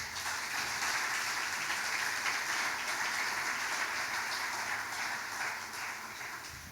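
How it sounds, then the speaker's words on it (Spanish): A church congregation applauds loudly and steadily during a worship service, dense clapping filling the whole stretch before easing slightly at the end. "Aplaude fuerte al Señor."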